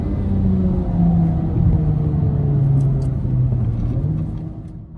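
A Honda Civic FK8 accelerates hard on the Nürburgring Nordschleife, its engine droning loudly and steadily with rising tonal harmonics and a rumbling low end over about five seconds, no talking.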